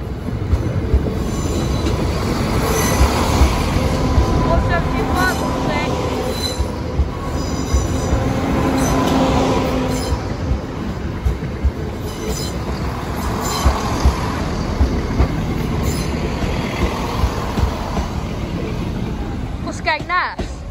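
A Class 950 train rolls through Sleaford East level crossing with loud, continuous wheel squeal and rumbling rail noise for the whole stretch, close by, with faint voices in the background.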